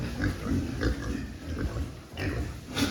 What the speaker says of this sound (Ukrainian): Тут порядка 30 свинок.